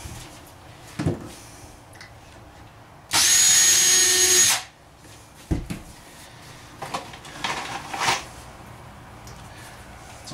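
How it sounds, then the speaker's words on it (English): A power drill whirs steadily for about a second and a half, pre-drilling holes in wood for a wardrobe cabinet in a DIY travel trailer, with scattered knocks and handling clatter before and after. "It's always a good thing to pre-drill your holes because you end up splitting your wood if you don't."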